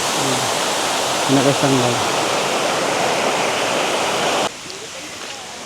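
Kuyawyaw Waterfalls at a nature park: a steady, loud rush of falling water fills the scene, with brief talk over it early on before the roar drops to a quieter level near the end.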